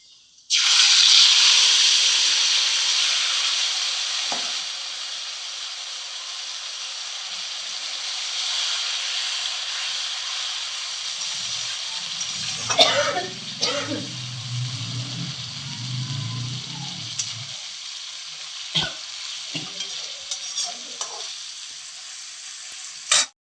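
Hilsa fish pieces drop into hot mustard oil with a loud burst of sizzling that slowly settles into a steady fry, with a spell of spatula stirring and scattered clicks midway.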